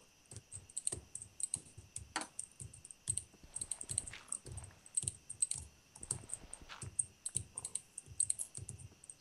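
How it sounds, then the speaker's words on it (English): Rapid, irregular clicking close by, many quick taps in bursts, sounding like mouse and keyboard clicks in a quiet room while playing Minecraft. "So many mouse clicks."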